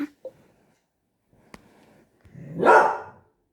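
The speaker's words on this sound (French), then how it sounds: "Désolée, c'est mon chien." A pet dog in a home gives one loud, close bark after a few quiet knocks and clicks in an otherwise silent room.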